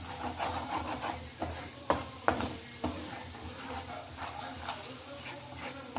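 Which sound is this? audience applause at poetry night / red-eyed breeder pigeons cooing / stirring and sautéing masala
stirring and sautéing masala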